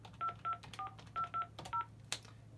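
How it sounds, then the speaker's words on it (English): Touch-tone DTMF beeps from number keys pressed on a CQ 50 Series IP phone, about eight short tones in an uneven typing rhythm, close and clear over a low steady hum, with no talking. "If I type in a phone number,"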